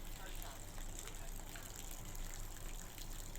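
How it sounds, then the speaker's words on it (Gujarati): Heavy downpour and flowing floodwater in Amreli, Gujarat, making a continuous broadband rushing, gushing hiss that stays steady and fairly faint throughout, with no clear speech over it. "બીજા દિવસે પણ ધોધમાર વરસાદ પડ્યો."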